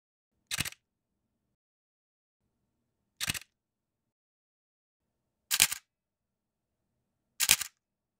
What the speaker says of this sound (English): Speaking of the mechanical shutter, the R7 is louder than the R6 as you're about to hear